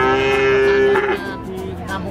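A Simmental calf at a livestock market in Sragen, Central Java, gives a loud, drawn-out moo close by, with market noise in the background.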